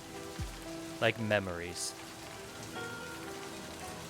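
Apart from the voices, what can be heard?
rain falling in a video game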